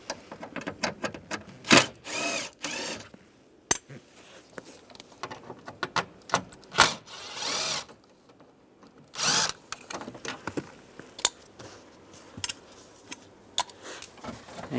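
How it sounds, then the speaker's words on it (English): A Phillips head screwdriver or driver backs screws out of a panel on a 2007-2013 Chevrolet Silverado, short bursts of whirring separated by clicks, rattles and handling noise, close and fairly loud. "Take those screws out."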